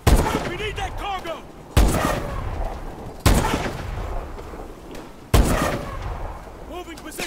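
Heavy gunfire in Call of Duty: Advanced Warfare comes as four loud, sharp shots at regular intervals, each followed by a rumbling decay, with voices calling out between them.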